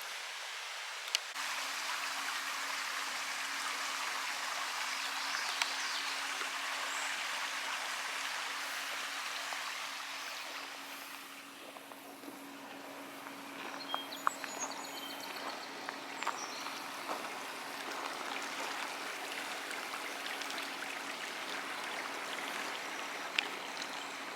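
French Creek flowing steadily as a broad, continuous wash of running water heard close by outdoors, with a few faint clicks and knocks scattered through it and no voices.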